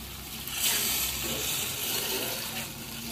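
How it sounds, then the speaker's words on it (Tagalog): Water splashes and streams steadily into a pot of clams for soup, a broad rushing pour that swells after a moment and holds at a moderate, close level. "mag-add tayo ng konting tubig lang"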